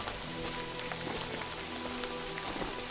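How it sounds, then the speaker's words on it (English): Dense, steady rainfall in a forest within Kingdom Come: Deliverance II, countless drops pattering on leaves and ground in an even hiss, close and continuous with no voices. "I love the sound of the rain in the forest."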